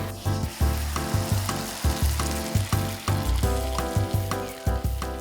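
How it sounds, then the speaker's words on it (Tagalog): Sliced onions sauté in hot oil in a pan, a loud continuous sizzle broken by regular scraping stirs roughly every half second, with no voices. "Dito igigisa ang ginayat na sibuyas."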